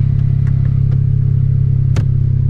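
Honda Civic Si idling steadily after being started, a low, even engine drone heard from close by, with a few faint clicks and one sharp tap over it.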